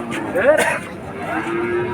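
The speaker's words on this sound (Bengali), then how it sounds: "এখানে অনেক গরু আছে, সুন্দর সুন্দর গরু" At a busy cattle market, a cow lets out a single drawn-out moo close by, rising then falling. Low crowd murmur and background noise continue underneath.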